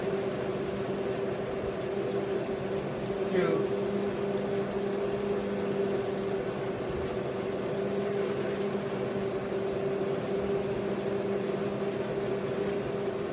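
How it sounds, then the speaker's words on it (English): An immersion blender whirs in a steady, continuous motor hum, pureeing chili, onions, ginger, garlic and dry fruits in a chicken biryani gravy, with a slight shift partway through and no talk. "take a immersion blender"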